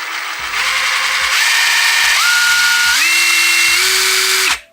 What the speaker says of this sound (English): you can control the power of this with the trigger if you go really slow